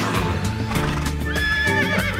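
A horse in LittleBigPlanet lets out a loud, close whinny over rapid clip-clopping hooves and busy game music.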